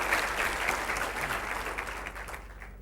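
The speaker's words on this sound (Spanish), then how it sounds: "dele un aplauso al Rey Jesús." Church congregation clapping in a steady, full round of applause filling the room, dense and even throughout, tapering only slightly toward the end.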